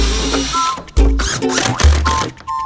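A handheld power drill drives screws while a fold-up table is put together, its motor whirring in several short bursts that rise and fall with pauses between them, loud and close.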